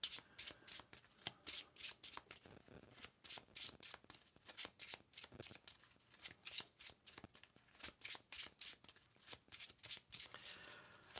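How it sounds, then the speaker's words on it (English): Playing cards for the Nemesis board game are riffled and shuffled by hand at close range, in quick repeated bursts of crisp flutter. "I need to shuffle real quick"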